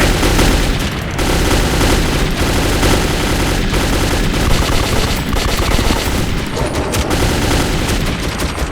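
Sustained automatic gunfire and bursts of shooting from a firefight in the Metro 2033 video game, loud and dense throughout with heavy booming underneath.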